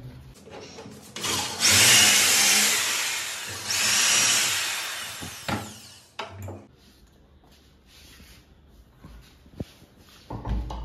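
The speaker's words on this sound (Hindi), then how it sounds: "फिर उसके बाद 8 mm का बिट से हम लोग हॉल करेंगे" Power drill fitted with an 8 mm bit boring a hole into a wall, loud whining bursts of drilling around two and four seconds, followed by quieter scraping, taps and handling noises.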